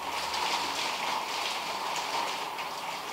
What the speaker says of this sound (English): On the outside. Start to rain.